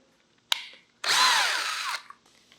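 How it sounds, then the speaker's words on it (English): A sharp click, then a power drill whirs into hardwood for about a second while drilling a pilot hole, its pitch sagging under load before stopping. "drill a pilot hole into the hardwood"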